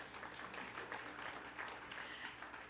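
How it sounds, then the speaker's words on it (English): Audience clapping at a Rotary summit session, a short burst of many hands applauding together in a hall, steady and moderately loud throughout with no one speaking over it. "We clap for that."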